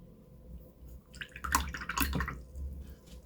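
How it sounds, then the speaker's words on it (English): Water drips onto an acrylic painting of a cardinal, a few soft wet taps clustered in the middle of an otherwise quiet moment. "Oh, dropping water on my painting."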